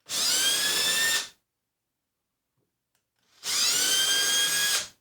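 A power drill bores holes through a wine rack into a wooden cabinet in two loud whining bursts of about a second each, separated by a silent pause.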